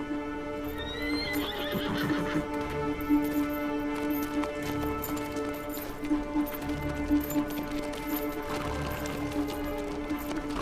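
A horse neighs and whinnies while hooves clip-clop steadily in a period drama stable scene set in the Ottoman era, with musical score underneath and no clear talk.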